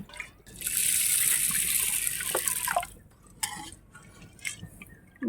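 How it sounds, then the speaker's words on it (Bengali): Water poured into a cooking pan (kadai) for a greens and lentil dish, a close bright splashing pour lasting a couple of seconds, then a few drips and clinks of the pan. "এবার পরিমাণ মতন জল দিয়ে দিচ্ছি"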